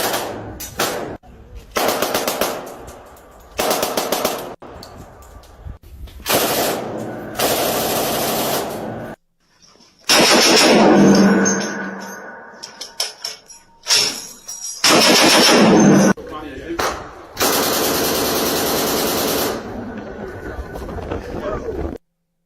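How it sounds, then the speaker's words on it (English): Machine gun fire rings out in several sharp, loud bursts separated by short pauses, with voices talking between and around the shots. "I got to shoot machine guns."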